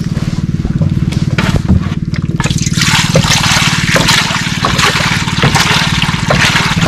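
Water pours into a cooking pot in a loud, steady splashing trickle, over a continuous low droning hum.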